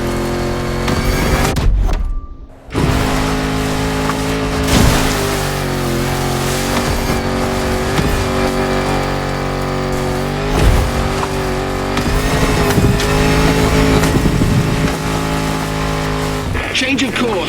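A Defender with 400 horsepower under a 70-year-old bonnet drives in The Crew Motorfest, its engine roaring loudly through repeated gear shifts and revving, with a brief dropout early on and talk over the engine.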